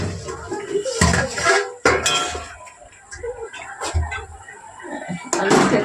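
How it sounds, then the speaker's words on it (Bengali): A lid set onto a cooking pot with sharp metallic clanks and clinks of pans and utensils while parshe fish curry with eggplant and potato cooks, several close, bright knocks spread through the stretch over kitchen background noise. "দিয়ে দেবো একটা ঢাকা"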